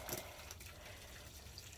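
Water running from a garden hose while a puppy plays nearby, a steady soft gushing spray, fairly faint and continuous over a short stretch.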